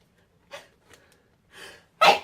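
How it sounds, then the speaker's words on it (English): A person gives a sharp, loud sneeze at the end, preceded by a few quick inhaled gasps and breaths building up to it, close to the microphone with no talking. "I sneeze a lot."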